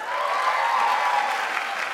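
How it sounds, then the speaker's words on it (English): A live audience at a panel with drag queens claps and cheers. The applause is dense and sustained, and no one speaks over it. "Can I have a round of applause for how eager you are to hear from them?"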